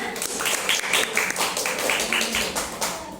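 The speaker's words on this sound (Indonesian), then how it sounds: "Tepuk tangan dulu waktunya." Students in a classroom clapping, a run of loose, uneven hand claps up close that rises and dips in bursts, with some murmuring voices underneath.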